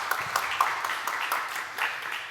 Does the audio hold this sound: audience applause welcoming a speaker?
yes